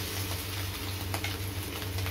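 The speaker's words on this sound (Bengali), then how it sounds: "সেই মাছের যে তেলটা ছিল ওই তেলের মধ্যেই আমি মাছের ডিমটা দিয়ে দিচ্ছি।" Fish roe fritters fry in leftover fish oil in a wok, giving a steady, dense sizzle with a low hum beneath, fairly close and continuous, with faint scraping and no talk.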